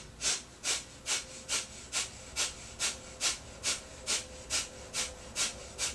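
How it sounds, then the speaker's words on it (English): Rapid forceful exhales during a yoga breathing exercise that contracts the stomach, around fourteen sharp nasal puffs in a quick, even rhythm, close and alone without talk. "Keep contracting the breath over and over and over again."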